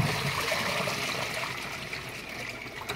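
A twin tub washing machine churns water hard in its tub, giving a steady, close rushing and sloshing roar that holds constant throughout.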